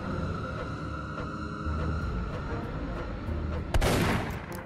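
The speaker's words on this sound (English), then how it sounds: "Oh, gunshot." Gunfire in the Roblox horror game Faithless, a sharp burst of shots near the end cutting through a dense, rumbling game soundscape with a steady hum underneath.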